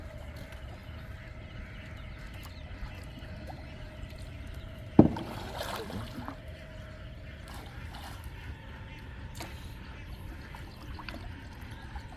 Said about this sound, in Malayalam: വള്ളം പുറത്താക്ക് തുഴഞ്ഞ് പുറത്താക്ക്